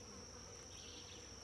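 A low, steady buzzing of bees in a hive box drones quietly and continuously, with a faint high whine running over it and no talking.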